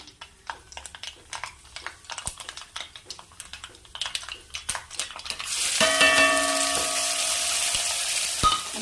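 Mustard seeds crackle and tick in hot coconut oil in scattered sharp pops, then shallots, garlic, hot green chillies and leaves hit the pan with a sudden loud, continuous sizzle that fills the rest.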